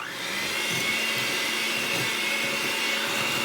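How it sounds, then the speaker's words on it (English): An electric hand mixer whirs steadily as it blends brownie batter with eggs in a bowl, a continuous, fairly quiet motor drone that starts and holds without pause. "Then you go back to your hand mixer and blend it all together."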